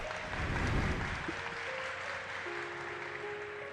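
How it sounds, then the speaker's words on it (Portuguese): Audience applause in a church meeting hall, a steady wash of many hands clapping at moderate distance, swelling briefly then holding level with faint crowd murmur. "Salva de palmas, né?"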